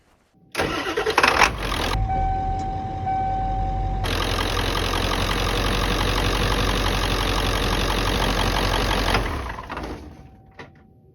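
A 1997 Ford F250 with a 7.3 Powerstroke diesel cranks and fires, then idles with a steady, loud clattering rumble for several seconds before shutting off, no talk.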